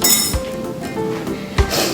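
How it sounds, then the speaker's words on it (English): A whisk stirs lemon pancake batter with cottage cheese in a bowl, giving sharp metallic clinks against the rim, a few distinct knocks spaced irregularly through two seconds. "And we just whisk that together."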